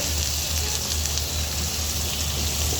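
Chopped onion and garlic frying in oil in a kadai give off a steady, close hiss of sizzling that stays even throughout, with no talking over it.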